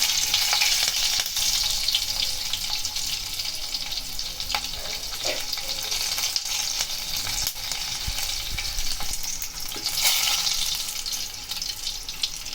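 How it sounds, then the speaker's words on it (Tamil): Urad dal and green chillies fry in hot oil with a loud, continuous hiss and crackle that holds steady throughout, with no talking. "எல்லாம் பொரிஞ்சிடுச்சு."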